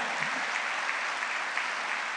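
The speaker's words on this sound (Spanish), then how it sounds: "Denle el aplauso al Señor fuerte." A church congregation claps loudly together at a Spanish-language service, a dense, continuous wash of applause with no speech.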